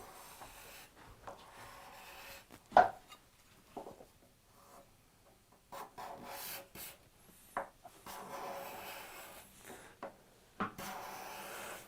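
A card scraper drags across a wood surface in short, quiet rasping strokes separated by pauses, with one sharper scrape standing out; no one speaks.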